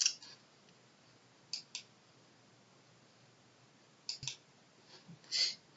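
A computer mouse clicks on the floppy disk save icon in an Excel spreadsheet, a few short, faint, crisp clicks spaced apart in a quiet room.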